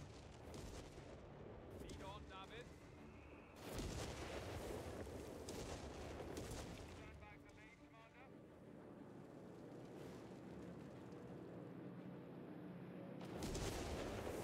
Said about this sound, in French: On se fait bien bombarder.